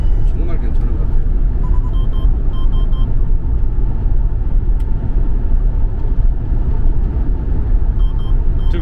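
A Kia Porter 2 truck's engine drones low and steady from inside the cab while driving, a continuous rumble beneath ongoing conversation.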